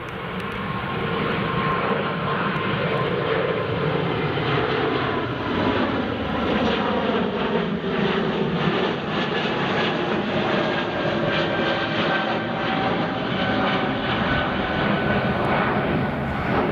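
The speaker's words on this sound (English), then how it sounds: "Here comes the Air France, the A220." An Air France Airbus A220 jet passes at Edinburgh Airport: a loud, steady engine roar that holds with little change from start to finish.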